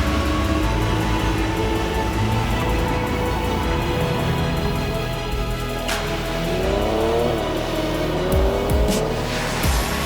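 A McLaren 570S sports car drives along alpine mountain roads, its engine droning loud and steady throughout, with a brief tire squeal and rising engine note near the end.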